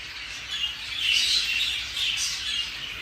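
Grey spangle male budgerigars chirping and chattering in a steady, busy stream of high twitters, close and fairly loud, with no talk over them.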